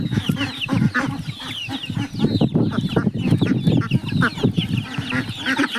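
Several chickens cluck steadily and busily up close while eating melon, short overlapping calls with a rooster-like note now and then, continuous farmyard chatter with no talking.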